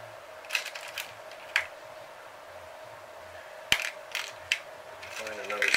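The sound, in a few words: rummaging through parts to find a glow plug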